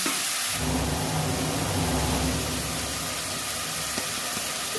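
Water splashed onto fried ginger-garlic paste in a hot pan gives a loud, steady steamy hiss and sizzle that carries on alone throughout, with no talking.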